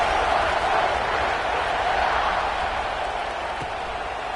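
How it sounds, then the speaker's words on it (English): College football stadium crowd in Ohio State versus Clemson buzzing after a score, a dense continuous roar of distant voices filling the space with little change in level. "this crowd is buzzing after that last score"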